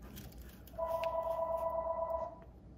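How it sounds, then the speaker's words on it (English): A telephone rings indoors in a quilting workspace, giving a single steady electronic ring of about one and a half seconds that starts and stops cleanly and is moderately loud against quiet room tone. "Excuse our phone call."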